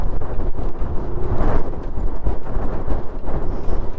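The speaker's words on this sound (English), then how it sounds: "it's literally the wind" Heavy wind buffeting a microphone while riding a Kugoo M4 Pro electric scooter, a loud continuous low rumble with gusty surges and no talking.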